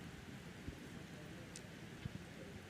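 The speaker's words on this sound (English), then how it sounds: "So with the rain, I mean, we wouldn't stop for rain." Steady rain falls outdoors during an Olympic archery team match between Indonesia and Ukraine in Tokyo, a soft, even hiss with a few faint taps and thuds, no voices.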